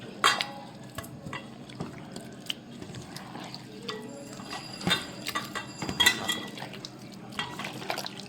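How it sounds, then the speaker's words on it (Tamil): Chicken pieces for chicken 65 are mixed by hand with a cracked egg in a bowl, giving close, soft squelching and irregular clicking taps that grow busier toward the end, with no talk. "இதை வந்து நம்ம நல்லா பிசைய போகிறோம்"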